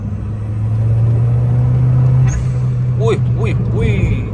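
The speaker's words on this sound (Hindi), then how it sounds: "स्पूल की आवाज़ देखें आप लोग" A Honda K24 engine swapped into a Suzuki Cultus pulls hard in third gear at a track night, with a steady low drone and a few short rising turbo whistles near the end.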